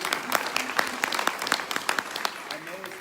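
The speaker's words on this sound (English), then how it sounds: "I'd like you just to give all of yourselves a hand clap." Audience at an evening community forum clapping for themselves, a scattered round of claps mixed with some voices, moderate and fairly close.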